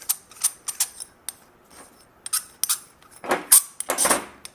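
A suspension adjuster ring being unthreaded by hand, giving a scatter of small metallic clicks and scrapes up close, sparse at first and then a denser rasping burst near the end, with no talking.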